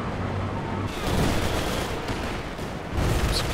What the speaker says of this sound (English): It's a Katyusha barrage.